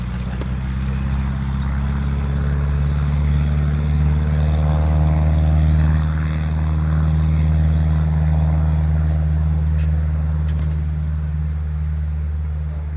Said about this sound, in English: Love the sound of props, warbirds, anything like that